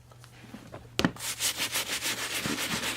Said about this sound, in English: we're going to use that medium bristle brush to start cleaning the shoe